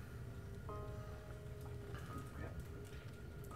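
Rain in Doki Doki Literature Club Purist Mod falls in a steady, even patter that fills the whole stretch without a break, with a faint tone ringing over it.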